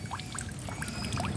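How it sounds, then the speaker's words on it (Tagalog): A weak flow of water from a natural spring trickles and pours softly, a thin irregular splashing and gurgling that stays quiet and close for a brief moment, with no voices. "Grabe, ang hina ng tubig."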